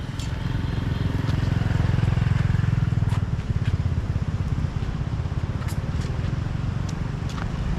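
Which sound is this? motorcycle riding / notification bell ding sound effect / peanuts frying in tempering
motorcycle riding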